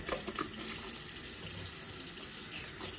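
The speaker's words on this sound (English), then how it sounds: "So I'm going to use hot water" Hot water runs steadily from a tap, a constant close hiss and splash that continues unbroken without talk.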